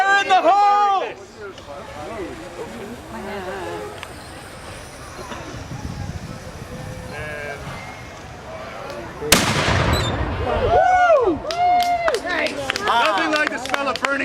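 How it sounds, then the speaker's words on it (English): Flintlock blunderbuss firing outdoors, a single loud sharp blast partway through, with people talking and shouting before and after it. "Now this is a blunderbuss. This is a flintlock weapon going back to that kind of a lock."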